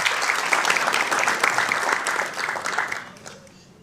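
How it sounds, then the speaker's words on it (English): A crowd at a city council meeting claps steadily for a few seconds, the applause loud and even before tapering off at the end. "Another round of applause."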